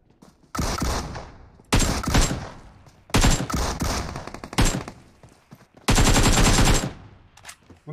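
Automatic gunfire in a shooter video game, aimed at a bot, firing in four or five loud, close bursts of rapid shots with short silent gaps between them.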